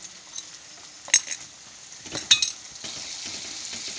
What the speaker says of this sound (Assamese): মই মছলাখিনি ভাজি ল'ম।